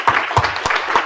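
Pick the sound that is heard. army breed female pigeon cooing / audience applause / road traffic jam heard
audience applause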